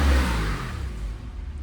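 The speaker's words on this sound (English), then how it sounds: "And now this is it with the flaps open." A 2007 Porsche Carrera 2S 997 with factory sports exhaust, flaps open, giving a deep close rev that peaks at the start and then eases into a steady throaty rumble, with no talking.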